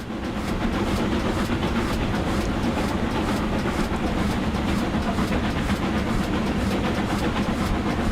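A Class 6000 King steam locomotive runs in Train Sim Classic on a hilly UK line, giving a steady, loud rolling rumble with a faint rhythmic clatter of wheels throughout and no voices.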